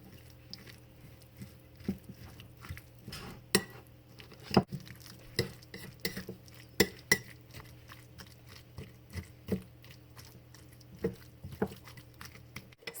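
Spicy tuna salad mixed in a bowl with a utensil gives close, irregular clinks and taps against the dish over soft wet stirring, with no talking.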